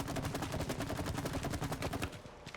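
Rapid, continuous bursts of gunfire in the video game It Takes Two, dense and rhythmic like automatic weapons, filling the whole stretch at moderate loudness.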